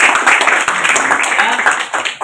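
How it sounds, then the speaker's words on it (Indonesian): A classroom gives applause for a student's answer, with a burst of close, dense clapping from many hands that lasts throughout, and voices mixed in. "berikan aplaus"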